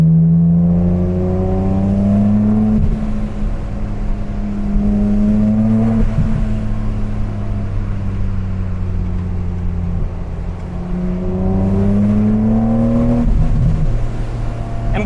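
A supercharged BMW Z4M engine pulls hard on the road, loud and close, its pitch climbing through several gear rises with a whining supercharger tone over the exhaust drone.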